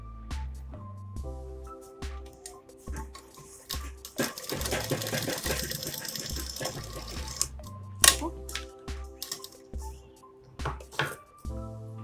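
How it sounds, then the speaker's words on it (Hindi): A sewing machine stitches elastic onto a fabric crop top. It runs in a steady, loud whirring burst through the middle of the clip, with quieter rhythmic tones before and after. "इसको पहले ऐसे करके सिलाई लगा लेंगे इलास्टिक पे।"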